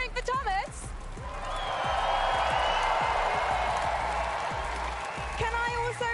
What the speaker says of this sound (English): Copenhagen, are you cheering for Thomas?